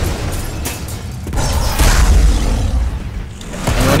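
Car crash explosion in the Burnout Revenge racing game: a loud, dense roar of boom and rushing noise that swells midway and again near the end, with no voices.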